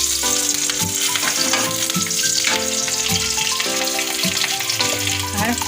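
Dried red chillies, whole garam masala, cumin and bay leaf crackle and sizzle loudly in hot oil, a close, dense frying hiss with stirring clinks throughout.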